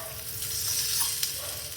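Adai batter, a Thanjavur-style lentil pancake, fries in oil on a pan with a soft, steady close sizzle and faint crackles, quiet and continuous.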